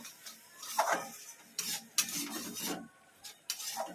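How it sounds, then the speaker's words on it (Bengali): Spice paste being stirred and sautéed in a pan, with repeated scraping and rasping strokes in irregular bursts and a faint sizzle underneath, no talking. "মশলাটা কষাচ্ছি"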